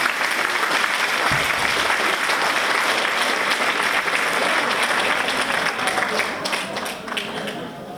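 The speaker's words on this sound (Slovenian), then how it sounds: "še en velik aplavz za moški pevski zbor Društva Lipa v nastajanju" An audience at a Mother's Day concert in a village cultural hall applauds a men's choir, a loud, sustained, dense clapping close by that eases slightly near the end.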